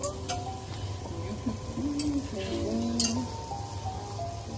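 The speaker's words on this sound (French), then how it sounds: "On va faire fondre notre beurre." Butter melts in a pan for a cheese sauce, giving a soft, steady sizzle with light clinks of a utensil against the pan and faint background talk.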